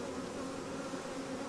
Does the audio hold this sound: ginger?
no